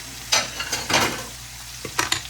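Mushrooms dropped into a hot pan sizzle and fry, with a few sharp stirring scrapes and bursts of crackle over a steady hiss.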